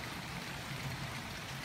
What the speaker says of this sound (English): It's pouring down out there.